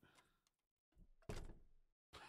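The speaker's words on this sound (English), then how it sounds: "it sounded like my bedroom door was banging" A bedroom door thuds shut with a heavy bang, preceded by faint knocks and followed by a brief rustle, heard at close range.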